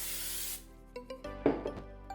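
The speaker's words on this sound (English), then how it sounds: "We're gonna spray some olive oil into the basket." Olive oil sprayed into an air fryer basket: a half-second hissing burst up front, then a few light clicks and taps of the can and basket, close and fairly quiet.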